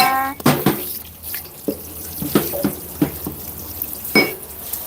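Dishes and utensils washed under running water in a home kitchen, close clinks and knocks of pots and cutlery over a steady trickle and splashes.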